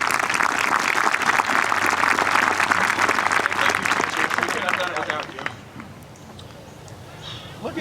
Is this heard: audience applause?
yes